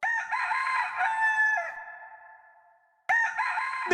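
A royal hen in a palace comedy scene gives loud, drawn-out cackling calls, one long call fading out, then a sudden second burst close by.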